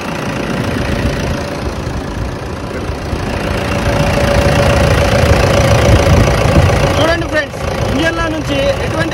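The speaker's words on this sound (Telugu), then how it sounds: "సింగిల్ సెల్ఫ్లోనే ఇంజన్ అనేది స్టార్ట్ అయింది." A 2012 Toyota Innova engine idling just after a single-crank start, a loud, steady mid-to-low rumble running throughout, with a voice briefly heard near the end.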